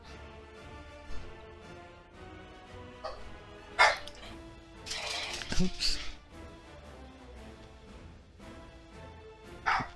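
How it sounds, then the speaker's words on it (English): Household dogs bark and yip in a few short bursts in the background, behind someone talking quietly. "Sorry about my dogs barking in the background."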